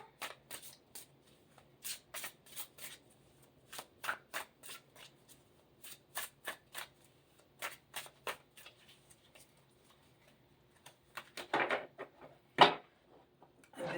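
Tarot cards from a Mary Day deck being shuffled by hand, a long series of crisp riffling bursts in an uneven rhythm, close and fairly quiet, with a louder flurry near the end and no talking.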